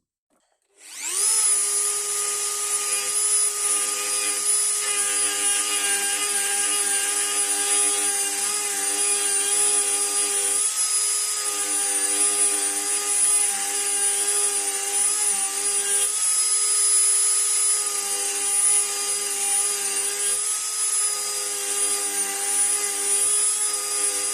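After a brief quiet start, a Dremel with a sanding drum bit whines at a constant high pitch while grinding pruning shears, with slight dips where the bit touches the blade over a long, continuous run.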